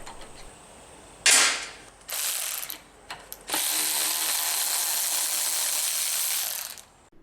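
A ratchet wrench with a shallow socket works on the header studs of a V8 4th-gen Toyota 4Runner during a Doug Thorley header install. It gives several bursts of rapid clicking, with a long steady ratcheting run near the end and no talk.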